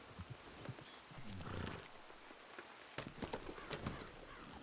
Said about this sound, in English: There's a lot of horses out here.